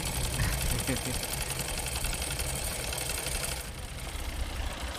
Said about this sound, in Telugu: కాస్త నెమ్మదిగా కుట్టు, మిషన్ ఇరిగిపోద్దేమో.